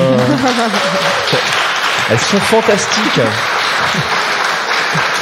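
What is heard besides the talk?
audience applause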